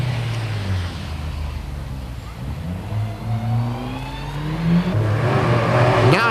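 A four-wheel-drive rally car at the 1991 Lurgan Park Rally, its engine climbing through the revs as it accelerates, then dropping and surging again. The engine is fairly close and loud over a background rumble.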